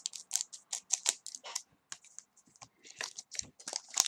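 Scissors snipping through the packaging of an Easter trading-card box set, a close run of sharp, irregular clicks and cuts, some in quick bursts, with brief pauses, no talking.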